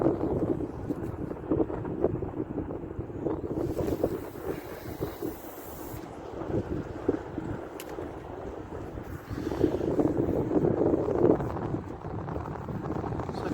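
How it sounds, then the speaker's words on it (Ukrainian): Strong wind buffets the microphone in a constant roaring rush by the water while fishing in central Kyiv, with gusts swelling and easing, and water lapping faintly beneath. "Вітер, правда, сильний капець."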